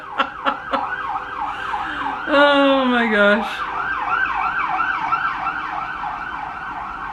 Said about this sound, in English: We got a siren coming along.